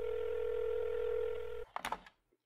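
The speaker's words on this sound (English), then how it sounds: "I got Rembrandt on the phone" A telephone tone holds steadily for over a second in a radio drama set in Vancouver, then cuts to quick dialing clicks and short bursts, ending in near silence.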